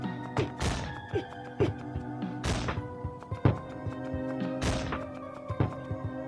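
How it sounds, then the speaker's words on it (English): In a dungeon video game, a hand cannon fires giant exploding blueberries with repeated heavy thumps and splattering whacks, a few bigger bursts among smaller thuds, over a steady tonal game backdrop. "a hand cannon that shoots giant blueberries"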